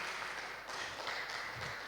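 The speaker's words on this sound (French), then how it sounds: "On applaudit la parole de Dieu." A congregation applauds at a French-language evangelical church service: a brief, steady wash of clapping from many hands, soft and diffuse, with no distinct single claps standing out.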